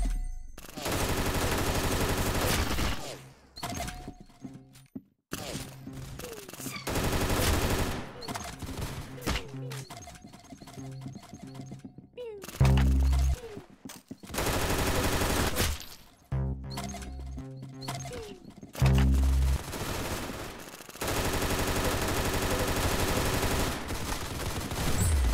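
Rapid bursts of gunfire from the video game Arsenal, loud and close, with several dense volleys broken by brief pauses and sharp single shots, repeated through the whole stretch.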